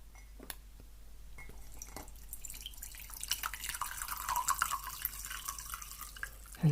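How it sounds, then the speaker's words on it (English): A spoon stirs green tea in a cup, giving a run of small liquid swishes and faint clinks that grow busier toward the end, close and fairly quiet, with no talking. "So I'm just going to give this a stir."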